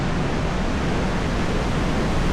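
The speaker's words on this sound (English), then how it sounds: "we got the main Boulder River coming right out the bottom of a cliff" Loud, steady roar of the Boulder River gushing out from the base of a cliff at a fishing hole, a dense continuous rush of water filling the whole clip with no voices.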